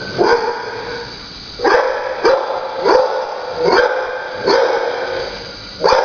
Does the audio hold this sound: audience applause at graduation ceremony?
no